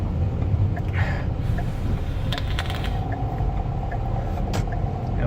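A car drives along steadily, its engine and road rumble a constant close drone with a few faint clinks and ticks inside the cabin and no talk.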